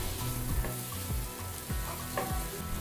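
Onions, ginger-garlic paste, salt, turmeric, cumin powder and Kashmiri chili sizzle in a pan for a prawn curry, a loud steady fry broken by rhythmic spatula scrapes about once a second.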